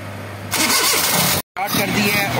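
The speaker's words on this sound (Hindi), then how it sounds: "मैं दोबारा गाड़ी स्टार्ट करता हूँ" A Suzuki Mehran car engine cranks and starts in a workshop during carburettor cleaning, then runs loud and close, cutting out briefly for a moment before resuming.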